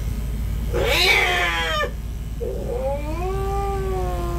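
An aggressive cat yowls twice in long, drawn-out, wavering caterwauls, the first louder and harsher, the second a rising then sustained moan, close and alone with no talk.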